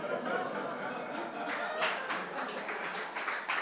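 Audience applause in a lecture hall at a talk on witch hunts and misogyny, a moderate, steady spread of clapping sustained throughout, slightly distant.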